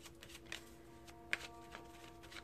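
Tarot cards shuffled for a reading, giving quiet, soft riffling and a few light snaps of card stock, faint and close.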